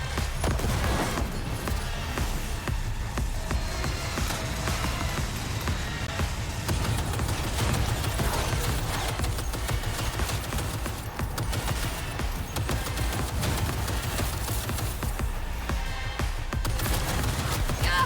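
Sustained rapid turret gunfire in the video game Cyberpunk 2077 Phantom Liberty, with dense continuous bursts and booms filling the whole stretch at steady loudness.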